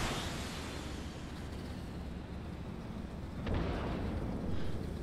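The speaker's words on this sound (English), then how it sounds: "The sound effect for the missile launching just is a bit improved, I think." A missile launch effect from the video game Star Citizen: a steady roaring, rushing blast that holds throughout, swelling louder about two thirds of the way in, with no voices.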